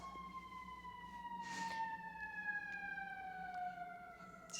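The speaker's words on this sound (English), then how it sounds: "just waiting for the sirens to go by." Sirens wail steadily, their pitch sliding slowly downward as they pass at a distance, sustained and fairly faint throughout with no talking.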